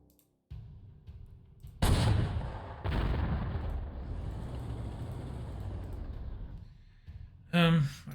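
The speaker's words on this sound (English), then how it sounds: "Artillery" Artillery fire in the Panzer Corps 2 strategy game comes as a sharp blast followed by a long rolling rumble, then a second loud burst near the end, all heavy and booming at close range, with no talking.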